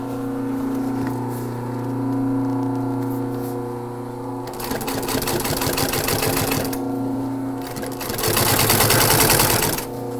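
A sewing machine stitches stainless steel picture cable into the boxing of a truck seat being reupholstered, its rapid mechanical chatter coming in close, loud bursts over a steady motor hum.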